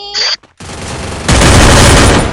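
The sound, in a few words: gunfire in the video game Free Fire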